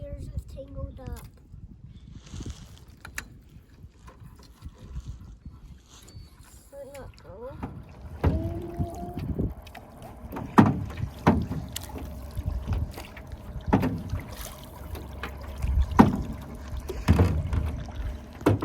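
Paddle strokes and water splashes from a small boat on a family camping and fishing outing, intermittent and fairly close, with light wind noise and children's voices talking at times.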